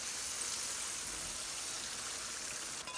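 Hot tadka poured over a lobia masala curry gives a steady, dense sizzle like hard rain that fills the whole moment, with a small clatter near the end.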